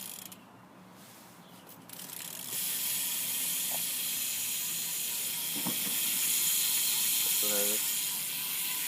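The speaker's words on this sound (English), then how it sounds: "And this is what the hub sounds like." A BMX bike rear hub freewheels with a fast, faint ticking buzz, a quiet ratcheting that swells slightly, with a few short clicks from the bike.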